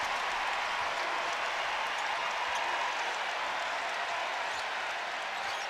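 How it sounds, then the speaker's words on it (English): Basketball crowd roaring in Rupp Arena during a Kentucky versus Bellarmine game, a dense, steady wash of cheering noise with no distinct voices. "Listen to this crowd."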